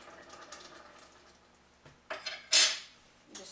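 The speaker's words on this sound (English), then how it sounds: "Just stir it up." Spoon scraping and clinking against a curry pot as spices are stirred into a chickpea curry, a few scattered metallic scrapes building to one loud clatter, then a short scrape at the end.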